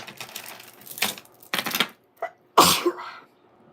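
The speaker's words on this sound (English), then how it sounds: "I'm about to sneeze." A series of breathy bursts building up, ending in one loud, sharp sneeze, followed by quiet.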